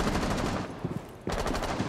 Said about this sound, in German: Da schießt Frau Frost